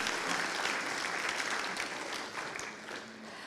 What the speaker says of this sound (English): Please, one more time, give applause for Gajah Mada Chamber Orchestra.